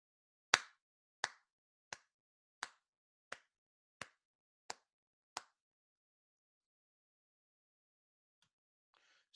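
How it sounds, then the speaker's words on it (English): Eight sharp hand claps in a steady, even rhythm, close and crisp, followed by near silence with a faint rustle at the end. "This rhythm sounds like this when you clap it out."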